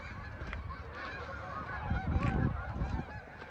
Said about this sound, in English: Excuse the squadron of honking geese.